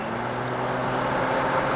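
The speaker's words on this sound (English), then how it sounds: "The Acura is driving great." An Acura that had been caught in a coastal salt-water flood and has just been repaired, heard from inside as it drives around the block, giving a steady, low engine and road drone with no speech.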